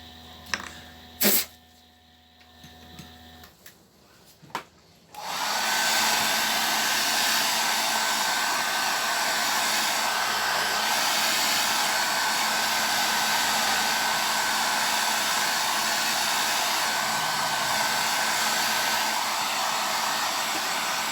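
A hair dryer blows onto a wet layer of paint, starting after a few seconds of faint knocks and handling noises, then running as a loud, steady, close whooshing whir to the end.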